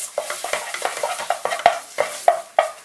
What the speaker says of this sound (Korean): 브라운루랑 페이스트를 함께 볶아주세요